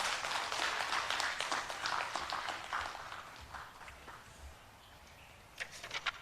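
Audience clapping at an International Day of Older Persons ceremony, a moderate burst of scattered hand claps that thins and fades out, followed by a few last claps near the end, heard from a distance in a hall.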